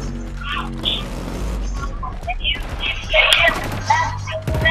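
Rapid gunfire and crashing impacts from combat in the video game Killzone Shadow Fall, loud and dense, mixed with game effects and someone talking over the action.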